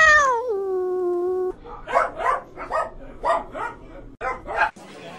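A dog barks repeatedly in short, sharp bursts at close range, after an opening drawn-out whine.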